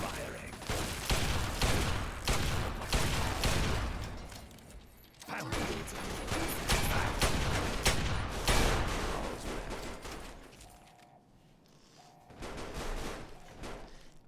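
Gunfire in the Fallout 3 video game crackles in sustained volleys, pausing briefly before resuming, loud and close with faint speech mixed in.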